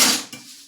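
A metal cooking pot is picked up and set down while khichdi is being prepared, giving a single close, ringing clank that decays quickly into a faint metallic hum.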